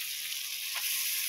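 Banana flower (koldil) frying in hot oil with spices in a pan, a close, continuous sizzle and hiss with a brief stir in the middle.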